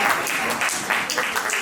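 Applause from an audience at an annual Hindi poetry gathering, a short burst of steady clapping that stays even throughout.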